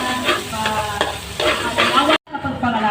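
Onions sizzling in a pan for pancit, a loud close frying hiss with stirring scrapes that cuts off briefly, then resumes.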